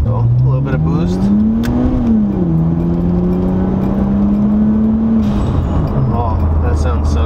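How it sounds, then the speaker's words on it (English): A turbocharged Nissan Skyline engine revs up, its pitch climbing then settling and holding before dropping back, with a turbo whine over a loud, steady drone. "It's a turbo car, and I've been boosting it everywhere."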